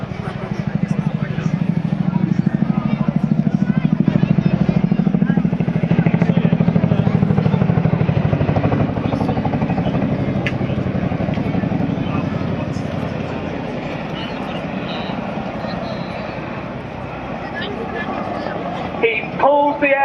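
A Chinook twin-rotor helicopter flying a display at an airshow, heard as a loud, continuous rotor and engine roar that slowly fades as the aircraft moves away, with announcer talk over it.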